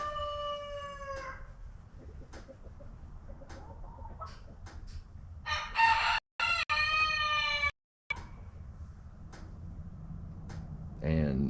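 Chickens on a ranch cluck close by, and a rooster's harmonic crowing rings out loudly. A voice speaks softly now and then.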